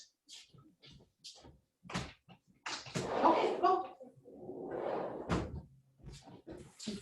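A kitchen patio door slides open and shuts to let a dog out, with a bump and rolling rumble of the door amid brief, quiet speech before and after.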